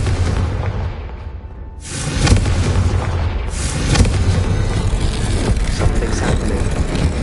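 A Confringo spell in the Hogwarts Legacy video game sets off a deep, booming explosion, followed by a second blast and lingering rumbling noise, all loud and close.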